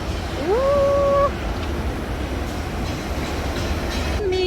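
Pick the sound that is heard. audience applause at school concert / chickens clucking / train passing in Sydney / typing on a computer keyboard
train passing in Sydney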